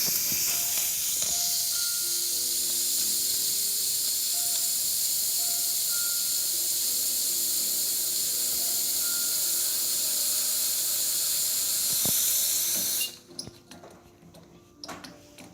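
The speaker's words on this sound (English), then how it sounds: "We'll test the steam." A Rocket R58 espresso machine steam wand gives a loud, steady hiss of escaping steam for about thirteen seconds. It then cuts off abruptly, leaving faint clicks and quiet room noise.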